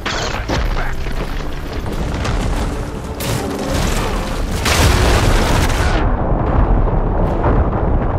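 Heavy cannon fire in Horizon Forbidden West, with loud, booming blasts layered over a dense, continuous roar and crashing debris, ending in a quieter tail.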